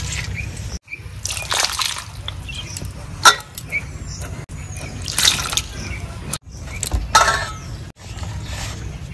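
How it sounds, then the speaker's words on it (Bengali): Water dripping and trickling as a palm fruit is washed clean by hand in a village kitchen, with intermittent splashes and handling noises over a steady low background. "প্রথমে তালটা ধুয়ে পরিষ্কার করে নেব।"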